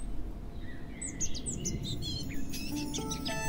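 A swallow chirping in an animated Chinese fantasy series, short high tweets and chirps repeating over a soft steady background, fairly close.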